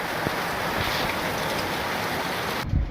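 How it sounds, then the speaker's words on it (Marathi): Heavy rain pours down outdoors in a dense, continuous hiss of drops striking surfaces, steady and loud throughout with no voices. "बाहेर जोराचा पाऊस चालू"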